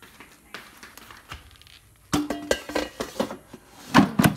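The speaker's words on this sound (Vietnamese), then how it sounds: "sau đó mình cho vào nồi chiên không dầu các bạn nhé" Thin cakes are placed into the basket of a 5-litre air fryer, giving close, irregular clinks, taps and knocks of metal and plastic, sparse at first, then a busier cluster of sharper clatter.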